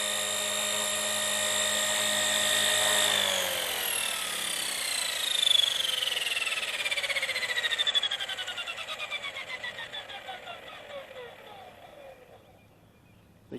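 A remote-control Blade 230S helicopter with an MD500E scale body flies past, its high rotor and motor whine sweeping downward like a Doppler pass, then fading farther away before a brief click at the end.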